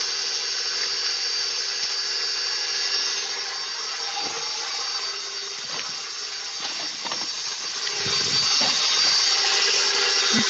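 Electric hand mixer beating cream cheese for icing, a steady high-pitched motor whir with scraping rattles of the beaters against the bowl, continuous and close, no talking.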